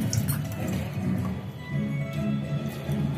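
A little water is poured onto beetroot being cooked for juice in a village kitchen, giving a soft trickle with small drips and faint clinks close by.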